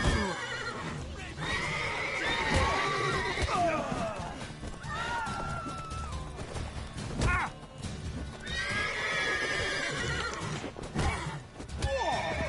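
Repeated horse whinnies and neighs ring out over galloping hoofbeats in The Witcher 3, loud and close, with game effects layered in and brief voices.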